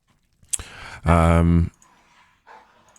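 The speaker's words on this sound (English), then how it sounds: "My dogs are having an absolute brawl on the bed." Dogs brawl on a bed, with a sharp bark-like burst followed by a loud half-second growl or bark and softer scuffling noises, heard close indoors.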